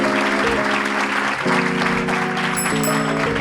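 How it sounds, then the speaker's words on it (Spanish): At a live podcast recording in Madrid's Hotel Jorge Juan, the audience gives journalist Enric González dense, continuous applause that blends with sustained background music. "Y ahora un abrazo, un aplauso para Enric."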